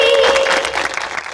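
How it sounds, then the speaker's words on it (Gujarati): An audience applauds to welcome three teams in the final episode of a stage competition show, a brief burst of clapping that fades slightly toward the end. "ચલો આપણે સૌ તાળીઓથી આ ત્રણેય ટીમોને વધાવી લઈએ"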